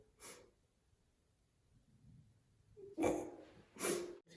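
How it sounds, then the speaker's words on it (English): A person sneezing, with short sharp bursts of breath and a snort-like sneeze between quiet pauses, close to the microphone. "I gotta sneeze."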